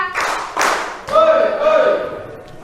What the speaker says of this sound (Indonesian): Kita kasih tepuk tangan anak-anak untuk kelompok 5